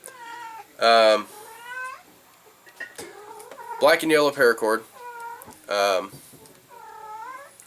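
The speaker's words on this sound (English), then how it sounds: "Freaking cat going crazy." An agitated indoor cat meows loudly and repeatedly in long, drawn-out wails, some harsh and overlapping, while someone talks quietly between and under the cries.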